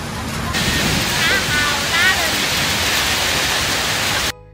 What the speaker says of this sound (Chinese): 马来西亚这个雨真的是说下就下